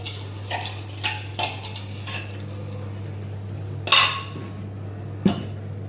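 Spoon stirring a flour and cold water mixture, then working it into minced meat in a bowl: a series of light clinks and scrapes, with two sharper knocks near the end, over a low steady hum.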